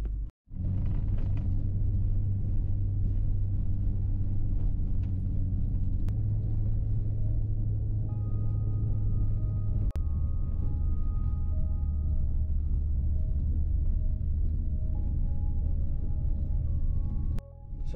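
Lifted Honda Ridgeline crawling off road in four-wheel drive near the Virgin River in Utah, a steady low engine rumble with drivetrain drone held close and loud throughout, brief dip near the end.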